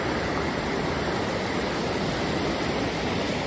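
River water in Yorkshire thunders down into a plunge pool in a steady, dense roar, close and unbroken, with no voices.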